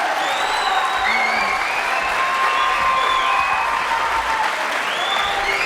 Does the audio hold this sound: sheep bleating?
no